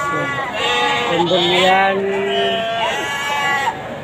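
Goats bleating repeatedly in wavering, drawn-out calls close by at a livestock market, with people talking over a busy background.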